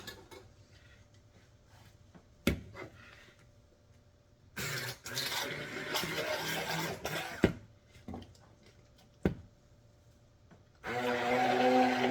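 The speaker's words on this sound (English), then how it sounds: "So now I'm going to take my immersion blender right here." An immersion blender whirs through sweet potato pie filling in loud bursts, starting and stopping with sharp clicks between runs, a steady low hum beneath and quieter pauses in between.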